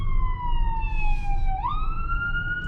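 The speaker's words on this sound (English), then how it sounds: "There's an ambulance going by," An ambulance siren wails on the highway, a loud steady tone that drops in pitch then jumps back up as it switches pattern, over the low rumble of road noise from a moving car.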